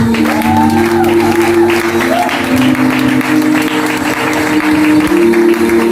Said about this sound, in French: Est-ce qu'on peut acclamer le Saint-Esprit?